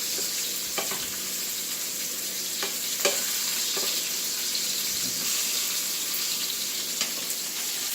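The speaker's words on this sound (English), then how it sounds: "A nice little crust on your meatballs there as we flip them over." Meatballs sizzle and fry steadily in a pan while being flipped over, a continuous close hiss broken by occasional soft clicks and scrapes of turning, with no talking.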